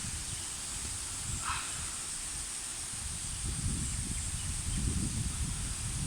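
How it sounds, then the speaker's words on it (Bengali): Wind blowing through a village during a rain storm gives a broad rushing hiss with low rumbling gusts that grow stronger toward the end. "তার জন্যে বাতাসও বইতেছে।"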